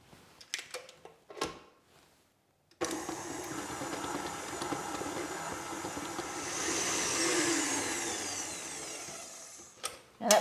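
An electric hand mixer beats butter and sugar in a bowl for a traditional golden syrup steamed pudding, whirring steadily and close for several seconds after a few short knocks, with no talking.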